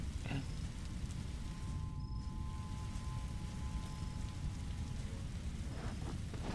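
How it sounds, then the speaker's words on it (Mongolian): Rain in a Roblox game, a steady, dense downpour hiss with low rumbling beneath, continuous and fairly loud, with a faint thin tone drifting over it. "Борооны чимээ ямар төвөгтэй байна"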